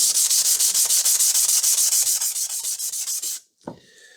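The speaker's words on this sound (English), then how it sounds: "if I start sanding here, see, the amount of rust that comes off is quite significant" Rusty steel chassis of an R.R. Radio Type 568 being sanded by hand: steady, close rhythmic rubbing strokes, loud and repetitive for about three and a half seconds, then stopping abruptly before a brief knock.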